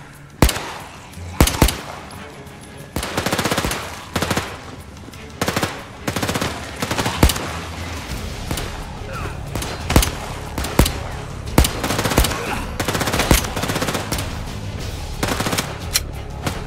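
Gunfire in the video game Overkill's The Walking Dead, loud bursts of automatic and single shots repeating irregularly across the span, with game sounds between them.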